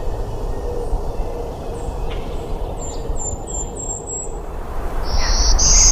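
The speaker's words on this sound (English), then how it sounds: "Black-throated green warbler. This one is really common." A black-throated green warbler sings in a Maine forest in late May. Its short, high buzzy notes repeat in a quick series, then come again near the end over a loud, steady rush of wind and insects.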